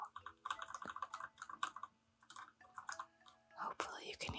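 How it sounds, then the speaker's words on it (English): Mechanical keyboard keys clack in quick irregular bursts, close and soft, while someone whispers over them. "Basically, I'm also using a mechanical keyboard"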